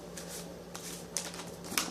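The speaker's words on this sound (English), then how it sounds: "I'm going to go ahead and just clear the cards and start shuffling" Soft, continuous papery shuffling of tarot cards, close and fairly quiet, with a couple of sharper flicks near the end.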